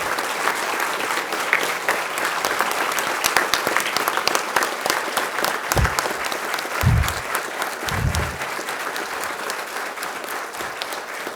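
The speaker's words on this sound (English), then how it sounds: "I now request the parents and the faculty to kindly rise and applaud for your wards as they are inducted into the portals of medicine." Parents and faculty at a medical school white coat ceremony give loud, continuous applause in a large hall, dense steady clapping lasting throughout with a few low thumps.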